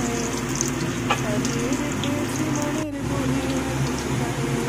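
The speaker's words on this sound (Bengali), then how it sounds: "তেলটা আমার গরম হয়ে গেছে, এবার আমি এতে আলুগুলো দিয়ে দেব।" Potatoes fry in hot oil in a kadai, a continuous close sizzle and bubbling hiss with a faint stir partway through.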